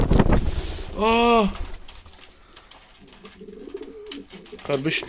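A pigeon's cooing call sounds close and clear, a short rising-falling coo followed by softer murmurs, while someone talks nearby and rustling noises mix in.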